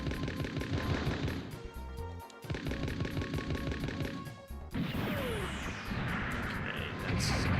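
Rapid head vulcan gunfire from a Mobile Suit Gundam video game, dense repeated bursts of loud game effects that run almost the whole time, with a sweeping whoosh near the end.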